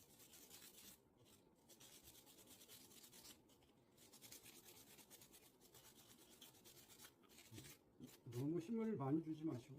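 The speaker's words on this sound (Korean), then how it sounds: "너무 힘을 많이 주지 마시고 부드럽게 살살 문지른다 생각하시고" Gentle hand sanding of glass-like edges with folded sandpaper on a faux stained glass art kit gives a quiet, continuous soft rasping and rubbing in repeated strokes, with someone talking over it.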